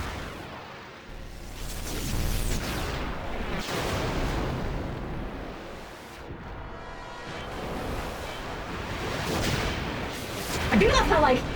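Hellfire attack firing in Final Fantasy X, heavy booming blasts and rumbling explosions rolling on for several seconds, with whooshing bursts and a bright crackle near the end, loud and continuous.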